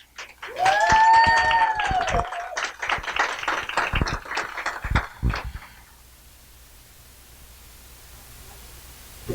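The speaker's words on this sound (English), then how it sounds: "If you ladies will give a round of applause, please, for Miss Sharon Bannon." An audience of women claps for a guest speaker at a live Sunday gathering, with a brief whistle rising early on, the applause fading out after several seconds into quiet room tone.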